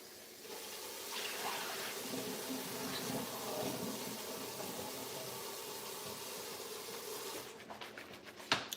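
Water runs steadily from a kitchen tap while mushrooms are rinsed, a soft continuous hiss and splash at low level, ending with a few clinks and knocks near the end.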